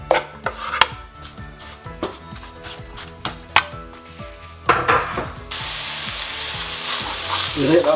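Onion and carrot in olive or vegetable oil in a pan, first clattered and stirred with sharp knocks, then settling into a loud steady sizzle of frying, close up.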